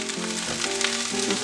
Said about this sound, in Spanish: Y ahí vamos a poner los chiles. Los vamos a poner a que se dore.